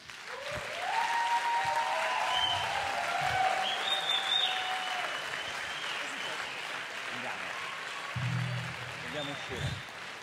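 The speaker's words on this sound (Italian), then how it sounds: "venite qui, forza, applausi" A crowd at a live music event in Sardinia applauds steadily as performers are called up, with sustained clapping and cheering throughout, a shout rising over it early on.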